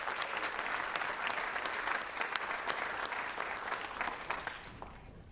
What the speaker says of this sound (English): Another round of applause for this wonderful group.